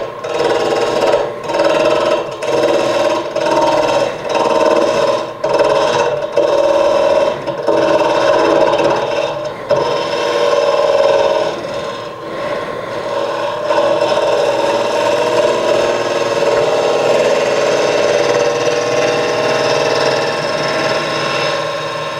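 Wood lathe turning a birch root burl bowl while the outside is cleaned up, a loud steady whir with a tool scraping against the spinning wood, rhythmic catches at first and then smoother cutting.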